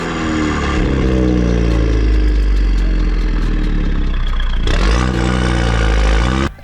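Loud, close Mini engine with a SuperSprint midpipe on a Stage 2 tune, revving hard with a rising turbo spool, dropping back, then spooling up again before it cuts off abruptly.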